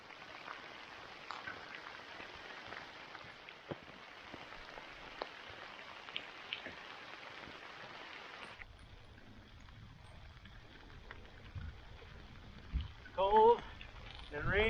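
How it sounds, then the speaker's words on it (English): Rain patters steadily on a hiker's umbrella along a cold, wet mountain trail, a dense close hiss of drops that thins partway through, with a few louder rustles near the end. "Cold and rainy."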